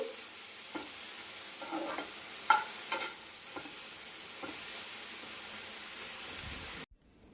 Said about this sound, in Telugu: తేమంతా ఇంకిపోయి డ్రైగా అవ్వాలి అప్పుడు దాకా ఇవి ఇలా వేపుకుంటూ ఉండాలి కలుపుతూ